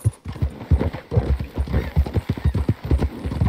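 Horse hooves clip-clop at a steady, quick rhythm in Red Dead Redemption II, close and fairly loud, with a brief whinny-like tone and no clear speech over the hoofbeats.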